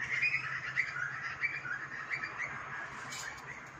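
Butcher birds and juvenile Australian magpies call in the morning, a steady run of bright chirps and warbling notes repeating fairly close by over a soft background hiss, with no talking.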